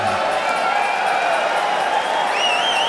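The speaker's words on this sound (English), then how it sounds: "The crowd likes it." Crowd at the Mosconi Cup pool event applauding and cheering a shot, a steady dense wash of clapping filling the whole stretch, with a whistle near the end.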